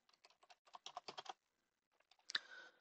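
Quick bursts of keystrokes on a computer keyboard, a rapid run of clicks followed by a pause and a sharper final key press, close and clear in a quiet room.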